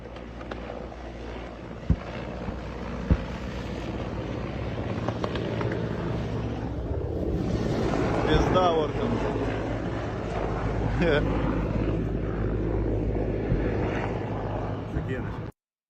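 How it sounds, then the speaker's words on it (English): A helicopter drones steadily with a low rotor rumble and wind buffeting, while voices talk over it throughout. "That's a menacing helicopter."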